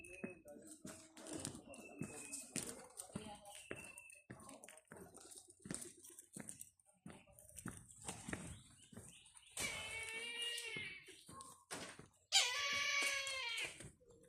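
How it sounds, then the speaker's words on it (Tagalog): Birds calling at a farm, including crowned cranes, with scattered chirps and louder squawking bursts near the end, heard among intermittent close talk and handling noises. "mga huni ng ibon"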